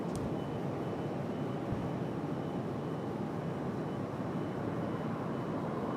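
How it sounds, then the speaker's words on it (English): A Cessna Citation CJ3 business jet comes in to touch down at an airport, a constant broadband roar of engine and rushing air holding steady throughout. "Fly exclusive from Omaha, Cessna Citation CJ3. Getting ready to touch down center here."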